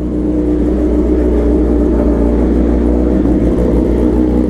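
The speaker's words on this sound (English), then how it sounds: "Let's get a cold start. As always, she's sounding good." 2023 BMW S1000RR motorcycle engine after a cold start, a loud steady idle with a slight rise in revs, heard up close with no talking.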